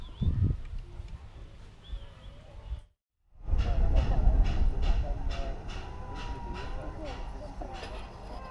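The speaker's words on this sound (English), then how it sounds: "Around noon, the steam train arrived at the event to pick up some of the reenactors" A steam train arrives at a WW2 reenactment railway event in Eeklo, Belgium, giving a broad rumbling roll with faint regular puffs that continues after a brief cut to silence.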